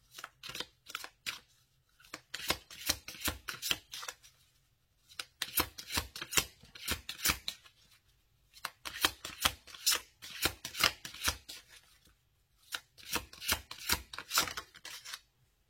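Oracle cards from a Doreen Virtue angel love deck are shuffled in quick riffling bursts, four main rounds of crisp, rapid card flicks separated by short pauses, close and quiet.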